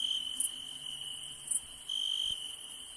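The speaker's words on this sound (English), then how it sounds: "This is a calming nature night." Crickets chirp in a steady, high, sustained trill through a calm nighttime nature ambience, with a few brief brighter chirps standing out and no talk.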